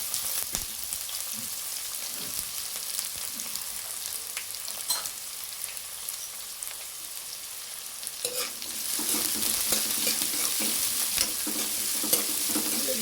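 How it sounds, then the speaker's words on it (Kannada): Food fries in a pan with a continuous close sizzle and occasional stirring scrapes, growing louder and denser partway through. "ಫ್ರೈ ಆಗಲಿ, ಚೆನ್ನಾಗಿ ಗೋಲ್ಡನ್ ಕಲರ್ ಫ್ರೈ ಆಗಬೇಕು."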